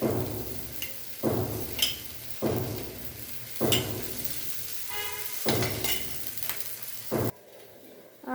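Rice flour thalipeeth fries in oil in a pan. Bursts of crackling sizzle rise and fall in repeated waves with a few sharp pops, then the sound drops away near the end. No one speaks.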